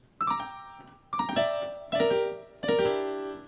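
Rock and roll piano rolls: four quick rolled chords, each a fast upward ripple of notes that rings out and decays before the next, played alone and close with no talking.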